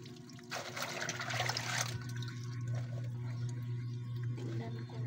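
Tap water runs steadily during hand washing, a continuous trickle with a louder splashing stretch early on, set against a low background hum and heard without talk.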